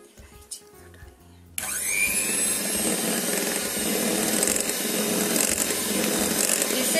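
After a quiet moment, a hand blender switches on abruptly and whirs continuously at high speed mixing nankhatai batter, a loud steady motor whine with churning noise.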